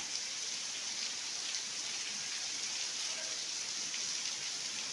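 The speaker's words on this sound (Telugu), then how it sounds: "గాలి కొంచెం తగ్గింది, వర్షం నిలబడి కురుస్తుంది" Steady heavy rain pours down at a Shiva temple in a dense, even hiss, with no voices and no letup throughout; the wind has eased.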